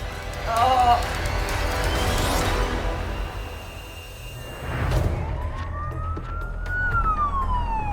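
An ambulance siren wails, rising and falling over road noise from the moving ambulance on an emergency run in Melbourne, with the pitch sweeping up near the end.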